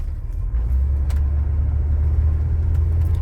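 A 1984 Chevy C10 pickup with a 350 V8 drives along with a steady low engine rumble and road noise from inside the cab, fairly loud and continuous, with no voices.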